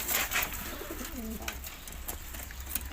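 Pigeons of show breeds, including Shobondo and Kronteya birds, give soft low cooing calls near and faint over a steady background hum, with no talking.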